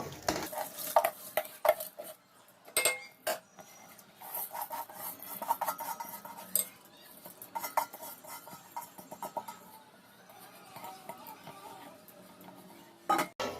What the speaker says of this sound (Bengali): এবার আমি যে আগে থেকে ভিজিয়ে রেখেছিলাম সেই চালটা এর মধ্যে দিয়ে দিচ্ছি।